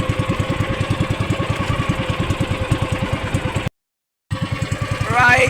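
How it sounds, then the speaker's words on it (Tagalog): A boat engine idles with a rapid steady chugging pulse, loud and close, cuts out briefly to silence, then resumes with a voice faintly over it. "At tayo ay magpapatay muna ng makina."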